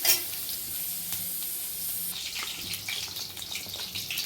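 Garlic sizzles in hot oil in a pan for chana masala, a steady close crackling hiss with some stirring scrapes, growing busier and brighter partway through.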